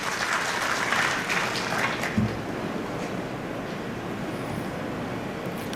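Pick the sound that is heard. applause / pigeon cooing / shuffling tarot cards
applause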